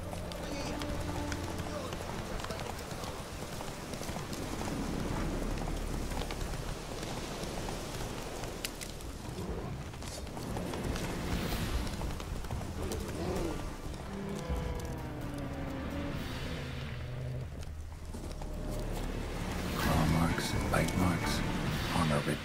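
Game hooves gallop in an even clip-clop rhythm through the open ground of an Oxenfurt forest in The Witcher 3, set against steady ambient music and background noise.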